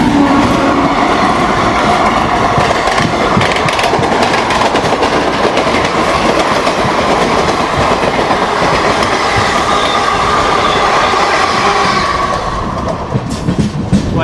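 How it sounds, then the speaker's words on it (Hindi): Netaji Express, an Indian passenger train, rolls past on the rails: a loud, continuous rush of wheels and rhythmic clickety-clack from the passing coaches, close by, easing off at the very end. "ये थी अपनी नेताजी एक्सप्रेस।"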